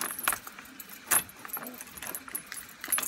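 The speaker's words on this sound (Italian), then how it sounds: "Allora, prendiamo le chiavi." A bunch of keys jangles in several quick rattling bursts, loud and close, with speech around them.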